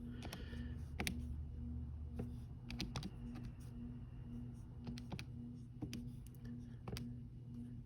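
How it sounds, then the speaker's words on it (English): Calculator keys are pressed in quick, light taps, a scattered series of small clicks over a low electrical hum in a quiet room. "So you literally type in that into the calculator."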